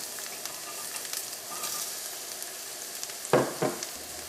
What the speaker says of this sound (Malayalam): ഇട്ടിട്ട് ഈ പാവയ്ക്ക നമുക്ക് പതുക്കെ നമുക്കൊന്ന് മൊരിച്ചെടുക്കണം.